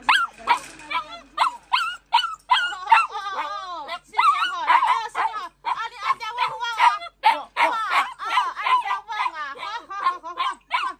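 A small dog barks in rapid, high yips and whimpers almost continuously, close to the listener, with only brief pauses between outbursts.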